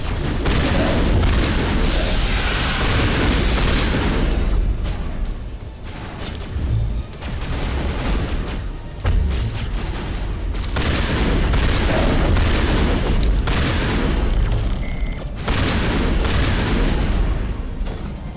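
Dense, loud combat din from Mass Effect Legendary Edition with heavy shotgun blasts and booming impacts, continuous and overlapping with no clear gaps between shots, and no voices.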